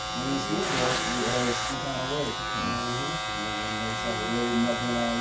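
Electric hair clippers trimming straight hair during a fade haircut, a steady close buzz running throughout with the pitch wavering as the blades move, heard alongside someone talking over it.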